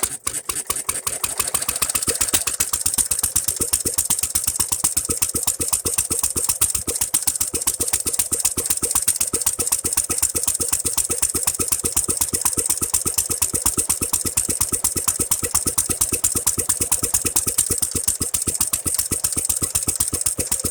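A Standard Monarch tractor engine idles with a steady, rapid chugging of evenly spaced firing pulses, close and fairly loud, running on its own without speech.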